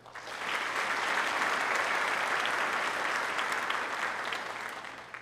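Crowd applause at a 2022 high school graduation ceremony swells in quickly, a broad, even wash of clapping from a large audience that carries steadily for several seconds and then eases slightly.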